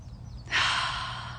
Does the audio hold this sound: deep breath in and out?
yes